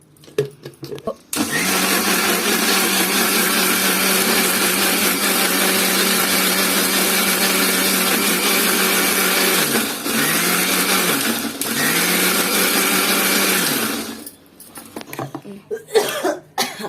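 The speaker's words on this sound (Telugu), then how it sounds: "ఇది వేసుకొని మళ్ళీ కొంచెం ఒక రవ్వ మిక్సీ పెట్టుకుంటే ఇంకా పచ్చడి రెడీ అయిపోతుంది" Mixie grinder running loud and steady while grinding tamarind chutney, with two brief dips in the whir before it stops, then a few clunks as it is switched off.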